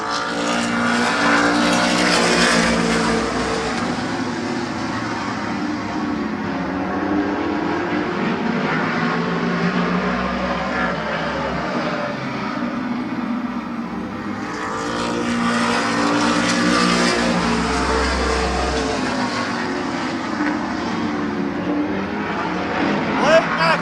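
Race cars circling a speedway oval during qualifying, a steady loud engine roar that swells and fades as cars pass, with an announcer talking over it throughout.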